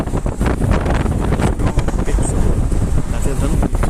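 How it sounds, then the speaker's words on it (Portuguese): Strong wind in the Serra da Estrela mountains buffets the microphone with loud, continuous gusty roaring, with a voice partly audible beneath it. "Tá ventando muito."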